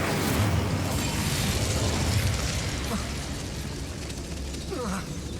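A fire spell is cast in Hogwarts Legacy, a loud roaring, crackling burst of flame that fills the whole moment with dense rumbling noise, settling slightly toward the end.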